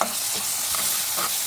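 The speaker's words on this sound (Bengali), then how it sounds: "এই পেঁয়াজটাকে একটু ভালোভাবে ভাজা ভাজা করে নিই" Onion frying in a pan with a little garlic paste while being stirred, giving a dense continuous sizzle with soft scraping movements, close and steady, and no voices.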